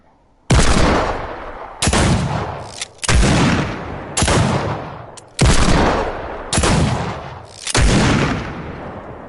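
Six heavy gunshots from Fortnite's Deagle and scoped revolver, fired one at a time with slow, uneven gaps of roughly one to two seconds, each a loud sharp crack trailing into a long echoing decay.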